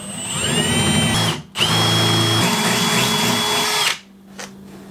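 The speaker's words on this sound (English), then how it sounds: "Now it's just time to drill the holes, and then I can put the mirror in." A power drill with a 1/4 inch bit bores holes for a car mirror on an Acura TL. It gives two loud, high whining runs with a short gap between them, then stops, leaving a quieter hum.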